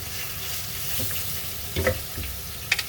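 Bitter melon and cooked pork belly sizzling in a pan for a Filipino or Okinawan stir fry, a steady low frying hiss with a few brief clinks and stirring scrapes.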